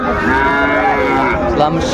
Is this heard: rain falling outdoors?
no